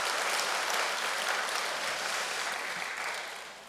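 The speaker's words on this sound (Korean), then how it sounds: "감사의 박수를 올려드리겠습니다." Audience applause at a peace blessing ceremony, a steady, full wash of clapping from a large crowd that continues throughout and tapers slightly at the end.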